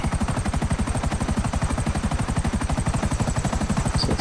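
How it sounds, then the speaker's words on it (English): A helicopter in Grand Theft Auto V thumps with a fast, even rotor chop and a whining engine, loud and close, beating steadily throughout. "using a helicopter is the easiest way to do it"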